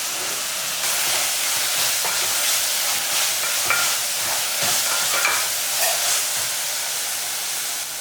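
Tomatoes sauté in a hot pan with a steady sizzle and hiss, broken by the soft scrape of stirring, close and continuous with no talking.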